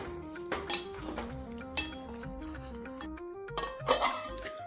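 A ladle scrapes and clanks against a bronze pot while rice upma is mixed. Several sharp metallic clinks come at irregular intervals over a steady, faint tonal background.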